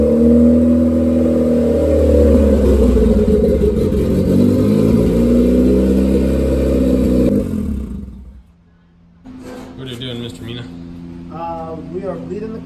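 A Honda Civic hatch with a D15 engine and a giant HX55 turbo revs loudly and steadily for about seven seconds, then cuts off abruptly. Quieter engine noise follows, with a voice speaking over it.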